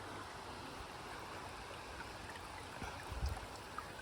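A stream of water flows steadily beside a rocky hiking trail on the Appalachian Trail, a constant faint rushing with no voices.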